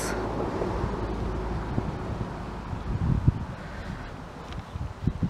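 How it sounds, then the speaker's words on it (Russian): Wind blows steadily against the microphone with a broad rushing roar, leaves rustling and occasional low thumps from gusts. "Ветер колышет деревья."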